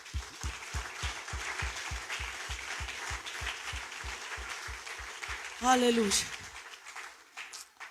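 A church congregation claps in a steady rhythmic beat for about five seconds. A voice then calls out over the last claps before the room goes quiet.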